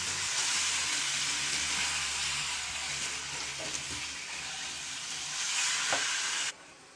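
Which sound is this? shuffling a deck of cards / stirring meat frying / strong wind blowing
stirring meat frying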